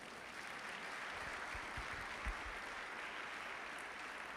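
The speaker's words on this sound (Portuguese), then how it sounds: "Só quem crê nisso dá um aplauso a Jesus." Faint, distant applause from a church congregation clapping for Jesus during a sermon, a soft steady wash of clapping heard from afar with little else.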